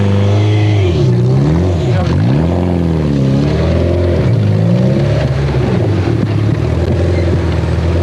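A Nissan rally car engine roars past close by, revving and shifting pitch as it accelerates, with people talking over the loud engine noise.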